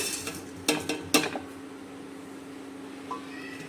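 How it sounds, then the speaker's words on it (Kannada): Sambar spices being dry roasted in a pan on low flame: a few sharp metallic clinks and scrapes of a utensil against the pan, spaced out over a quiet background hum. "ಲೋ ಫ್ಲೇಮಲ್ಲಿ ಇಟ್ಕೊಂಡು ಇದನ್ನು ಡ್ರೈ ರೋಸ್ಟ್ ಮಾಡಬೇಕು"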